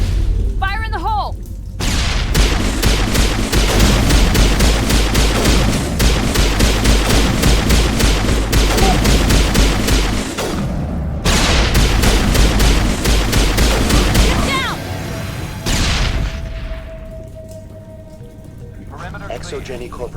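Weapons fire in dense bursts and sustained volleys during a Mass Effect Legendary Edition firefight, loud and close, with brief pauses between barrages and a voice speaking over parts of it.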